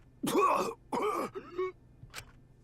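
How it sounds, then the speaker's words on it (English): A character in Danganronpa V3: Killing Harmony coughs and clears their throat in three rough, throaty bursts, followed by a brief sharp catch, fairly close and alone. "Cough."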